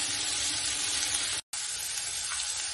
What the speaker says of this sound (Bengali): গ্যাসটা এই সময় বাড়িয়ে দেবো, একটু ভাজা ভাজা করে নেব।